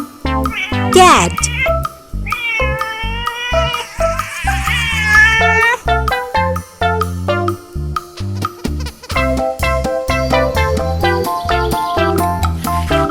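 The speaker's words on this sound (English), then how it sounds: "Cat." Repeated cat meows, high and wavering, alternate with other animal calls over a loud, busy children's song with bouncy rhythmic backing.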